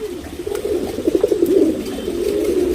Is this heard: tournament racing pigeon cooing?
yes